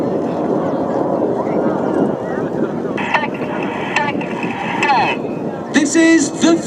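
Red Arrows jets flying a loop at an airshow in Malta, a broad distant roar with wind noise beneath a commentator speaking over a loudspeaker.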